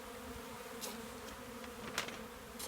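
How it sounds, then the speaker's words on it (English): Honey bees from home-bred queens hum around an open hive, a faint steady buzzing drone with a few sharper passing buzzes close by. "Wow, look at these bees."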